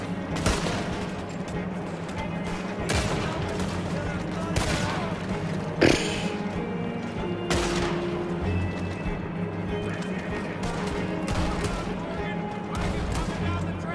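Repeated gunshots from a firearm in Red Dead Redemption 2, sharp cracks spaced a few seconds apart over a busy game soundscape, with voices under the shots.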